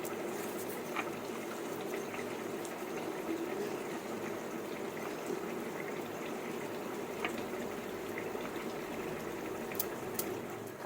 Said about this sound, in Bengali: সর্ষে আর পোস্ত সর্ষেটা একটুখানি ভালো করে ধুয়ে নিই